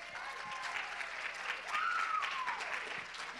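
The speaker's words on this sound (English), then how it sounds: "everybody give one more round of applause for the contestants." A crowd at a pageant gives the contestants a round of applause, continuous clapping with a few whoops rising over it, heard from a short distance.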